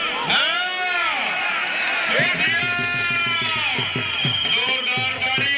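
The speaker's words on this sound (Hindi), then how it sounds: "जोरदार तालियां" Crowd at a kabaddi match between Palloan Club and Mianwali Club cheering and shouting loudly and continuously, with whoops and bellowing voices layered over a dense roar; applause is not clearly distinct.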